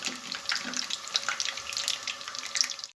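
Chicken and vegetable bread rolls deep frying in hot oil give off a steady, bright crackling sizzle with scattered pops, close and fairly quiet, ending in a sudden cut.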